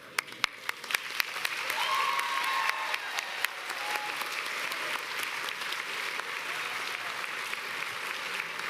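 Steady applause from a large audience, many hands clapping continuously at a moderate distance, with a few sharp louder claps standing out.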